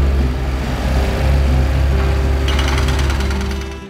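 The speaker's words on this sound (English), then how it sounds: "They're drilling out one of the caisson caps." A jackhammer pounds steadily at a concrete caisson cap during building demolition work, a loud continuous rapid hammering with heavy machinery rumble underneath and no talk.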